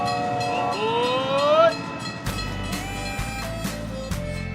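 A train whistle sounds in rising, sliding tones, then a train rumbles past with steady low noise and periodic clatter, loud and close, in a children's faith-themed railway program.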